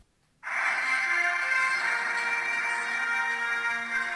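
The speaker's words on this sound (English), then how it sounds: "That's one of my ringtones. It's the theme to NOVA." A phone ringtone playing the NOVA theme begins after a short silence and carries on steadily, loud and close, as a sustained melodic tune.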